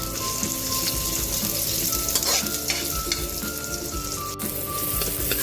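Onion frying in butter with garlic in a pan, a steady bright sizzle with occasional stirring scrapes, close and continuous with no talking.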